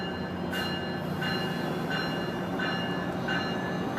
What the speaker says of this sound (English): The departure of the Metrolink.